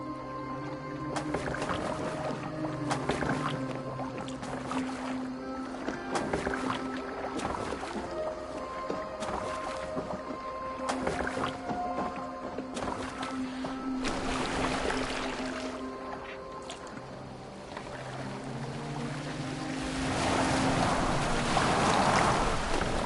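In Assassin's Creed Valhalla, a boat moves across open water with a steady wash of waves and splashing, under a continuous bed of game music, swelling louder toward the end.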